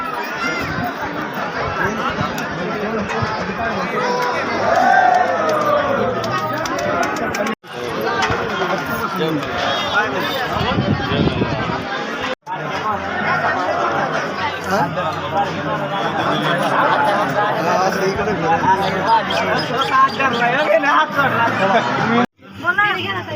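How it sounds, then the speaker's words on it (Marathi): Huge throng of pilgrims at the main entrance of Jejuri fort temple, a loud, dense babble of many overlapping voices that continues nearly without pause, broken only by a few brief cuts. "बघा कशी प्रचंड गर्दी जमलेली आहे मित्रांनो इथं"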